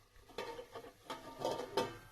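A metal lid set down on a cooking pan over a low stove flame, giving a few quiet clinks and taps in quick succession with no talking.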